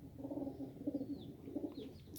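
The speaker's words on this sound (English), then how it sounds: "today we're going to try to train some birds" White pigeons coo in low, rolling, repeated phrases, close and moderately soft, with faint chirps of other birds in the background.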